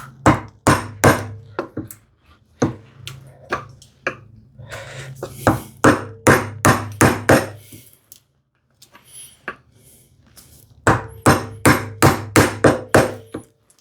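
A mallet strikes a chisel chopping a mortise in wood for a hand-tool shoe tidy, sharp close knocks in rapid bursts of repeated blows separated by brief pauses.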